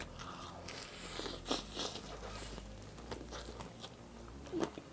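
Someone bites into crunchy Korean-style fried chicken wings, giving a few quiet crunches and crackles close up over a soft background with no voices.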